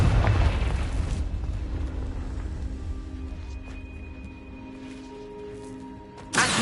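A Confringo fire spell detonates with a loud, booming burst in Hogwarts Legacy, its rumble tailing off over several seconds before a second sharp hit at the end.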